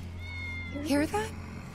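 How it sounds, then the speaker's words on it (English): A cat meows twice in Final Fantasy 7 Remake, two short close calls over a steady game background hum. "That's Wedge's cat."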